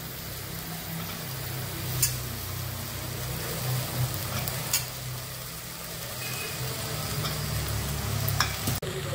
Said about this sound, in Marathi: बटाटी परतून झाली आहेत.